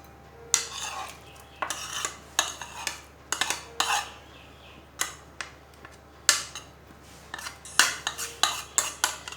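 Fried potato and onion are mixed into beaten eggs for a Spanish omelette, giving close, irregular bursts of sharp utensil clinks and scrapes against the bowl with brief pauses and no talking.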